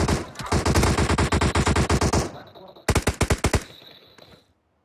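Automatic gunfire in the video game PUBG: two loud, rapid bursts of shots, a long sustained volley followed by a short gap and a second, shorter burst that fades out into quiet.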